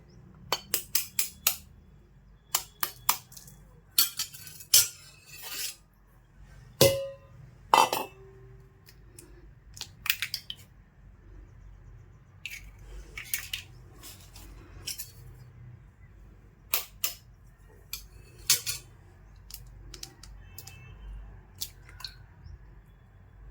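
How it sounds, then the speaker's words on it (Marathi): Two eggs cracked into a small bowl while cooking potato and onion breakfast: a scatter of sharp, close clicks and taps of shell and utensil against the bowl, in bursts and then more sparsely, with no speech. "अजून एक कटोरी घेतली त्याच्यामध्ये दोन अंडे आपण फोडून घेऊ"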